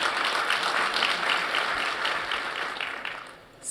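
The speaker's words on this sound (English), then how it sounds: "got a single woo and claps out there?" An audience at a talk claps in a steady, dense burst that fades gradually over a few seconds, heard from within the room with no voices over it.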